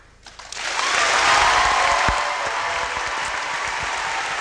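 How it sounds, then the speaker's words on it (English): A basketball gym crowd rising to its feet and clapping in support, swelling quickly from quiet into loud, sustained applause that fills the hall and carries on evenly with a few sharper thumps. "I'd ask all of you to stand up and clap as a way of showing your support."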